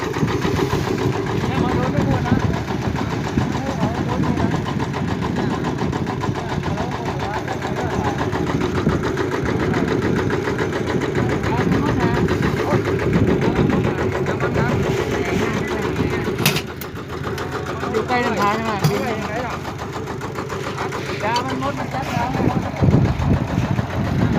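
A small rice seeder tractor engine runs steadily with a low, rough chugging hum throughout, loud and close, with a few brief clanks near the end.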